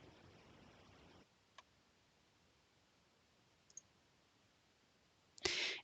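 A computer mouse clicks a save button in an online grading tool: a couple of faint, isolated ticks, then a brief sharper click near the end against quiet background hiss.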